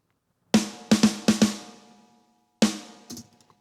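A mixed rock drum kit played together hits punchy, close strikes: a quick run of four or five hits, a pause, then another hit and lighter trailing taps, each with a short decaying ring.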